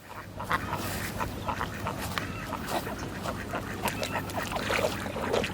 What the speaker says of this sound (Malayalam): വിഗോവ താറാവുകളാണ് വിഗോവ കുറച്ചും കൂടി വലുപ്പത്തിലുണ്ടാവും